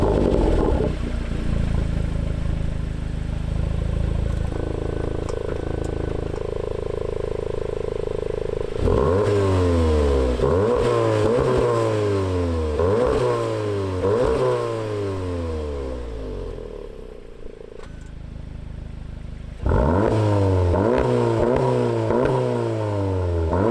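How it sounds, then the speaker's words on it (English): A Mk7.5 Volkswagen Golf R with a Remus exhaust idles with a low rumble, then revs repeatedly in sharp bursts, falls quiet briefly, and revs hard again, deep and loud, with exhaust valves closed then open. "I'll rev it with them closed, and then I'll rev with them open"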